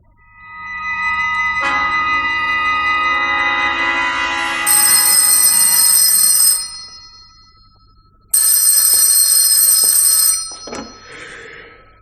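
A telephone rings in two long electronic bursts separated by a short pause, loud and close, with no voices over it.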